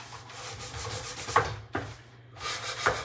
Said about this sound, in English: Just scuff it. Scuff along the side.